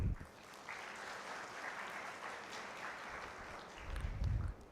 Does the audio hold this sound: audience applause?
yes